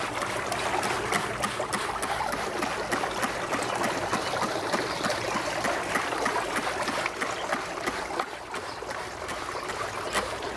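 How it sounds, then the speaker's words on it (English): A fern mister sprays only water onto ferns with a continuous hiss and fine spatter, close and steady for about ten seconds with slight variations in force. "I try to get both sides as I'm misting."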